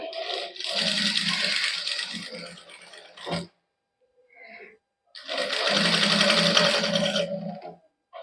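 A sewing machine stitches piping and fine lace onto the sleeve of a matching suit, running in two steady, close whirring bursts separated by a short pause with a light clink.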